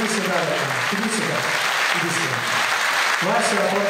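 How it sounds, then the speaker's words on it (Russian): An audience at a stage event applauds in a steady wash of clapping while a voice talks over it throughout. "Ваши аплодисменты."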